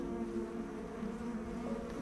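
Bees buzz in a steady, continuous drone, close and moderately loud, with no voices.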